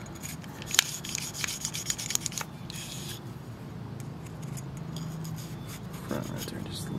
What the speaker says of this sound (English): This is a 9mm that's wore down. I've been doing some scrubbing with.